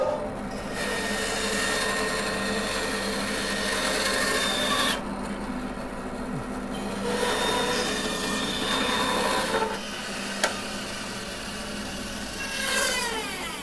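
A saw fitted with a 20 millimeter blade cuts wood blanks for a cross-grain box, giving long continuous rasping bursts with brief pauses between cuts, close and fairly loud.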